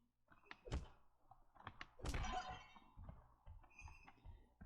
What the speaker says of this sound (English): sorry if you can hear the clicking sounds of my keyboard and mouse